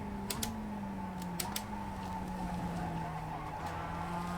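A Mazda race car in iRacing braking into a corner at Okayama, with a steady engine drone sliding down in pitch, a few sharp clicks of downshifts, and quiet tyre scrub underneath.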